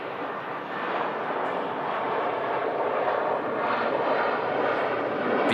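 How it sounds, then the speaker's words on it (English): A TAP Air Portugal Airbus A320-200 lands at Manchester Airport, a broad steady jet roar heard from a distance that swells slightly over a few seconds. "Beautifully greasing the runway there, the TAP Air Portugal Airbus airliner"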